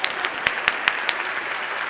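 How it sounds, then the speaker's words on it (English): A crowd claps steadily, with a few sharper individual claps standing out, a moderately loud applause heard from within the room. "we can give him a round of applause"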